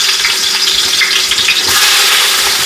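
Onions fry in a pan with a loud, dense, continuous sizzle heard up close for a few seconds, and no one speaks.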